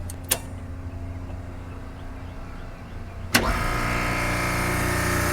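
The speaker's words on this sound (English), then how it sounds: "Now we'll fire our compressors." Refrigeration rack compressors firing up: a low steady hum runs, then a sharp clunk as the compressors kick on, followed by a louder, broadband mechanical drone that holds steady.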